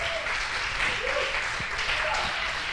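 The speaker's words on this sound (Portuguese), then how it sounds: "Vamos aplaudir o nome do Senhor." Church congregation applauding during a Portuguese-language worship service, a steady wash of dense clapping throughout with a faint voice briefly audible beneath it.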